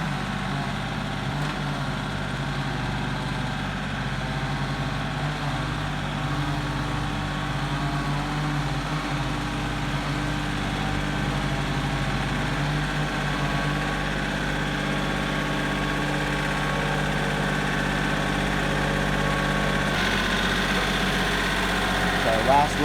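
A tractor engine idles steadily on a farm pasture, a low continuous rumble with an even mechanical hum that holds without change and carries close and loud throughout.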